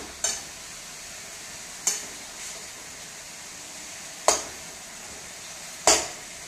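Boiled potato added to a frying Bengali curry: a steady sizzle with four distinct sharp clacks of a spoon against the pan, spaced a second or two apart.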